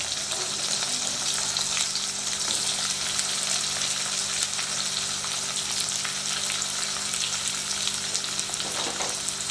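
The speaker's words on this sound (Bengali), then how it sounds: "পেঁয়াজটা দিয়ে 30-40 সেকেন্ডের মতো আমি পেঁয়াজটাকে একটু ভেজে নেব" Chopped onions fry in hot oil in a pan over a tempering of three green chillies, making a loud, steady sizzling hiss with occasional crackles and faint stirring, close by and continuous.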